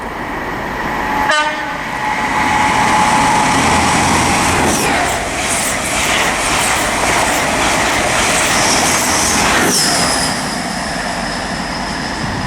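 An HST high-speed train races past Luton Airport Parkway on the Midland Main Line, opening with a sharp horn blast, then a loud close rush of wheels and carriages with rhythmic clatter and a brief squeal before it fades slightly.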